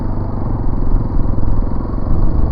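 A brand-new motorcycle fresh from the showroom runs steadily while being ridden, its engine giving a continuous low rumble with a faint clatter throughout, close and fairly loud.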